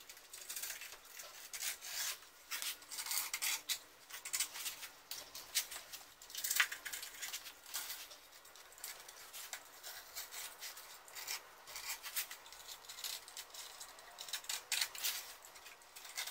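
A blade slices skateboard grip tape along the edges of the deck with a faint, steady scratchy rasping in quick uneven strokes, close up and with no talk.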